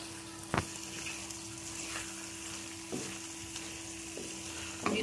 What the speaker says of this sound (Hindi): अब मैं ऐड करूँगी कटा हुआ सब्ज़ धनिया और साथ ही जो 4 अदद मैंने सब्ज़ मिर्चें रखी थी इनको कर देंगे हम अच्छे से मिक्स।